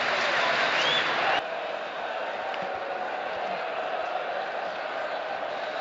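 A football crowd at Wembley for Sheffield Wednesday against Barnsley roars in a loud, dense wash of cheering that drops a little after the first second and then holds steady at a distance.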